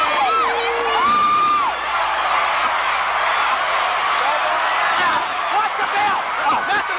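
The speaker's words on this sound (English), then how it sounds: "Look at this crowd, listen to them." Wrestling arena crowd roaring and cheering at a Von Erichs match, a dense, loud wall of shouts and whoops that runs the whole time, with a commentator's voice over it.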